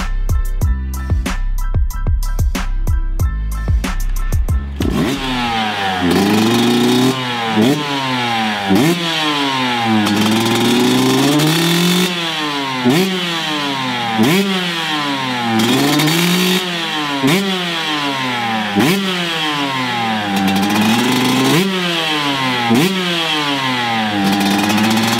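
A Yamaha WZ125 two-stroke trail motorcycle, weighing 92 kg, revs hard after a brief burst of music, its raspy, buzzy engine climbing and falling in repeated sharp throttle blips, loud and close with no talk.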